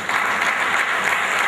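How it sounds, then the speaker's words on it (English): Dense, steady audience applause fills a lecture hall at a Nigerian professional institute's annual lecture, continuous and loud from start to finish with no voices. "A round of applause,"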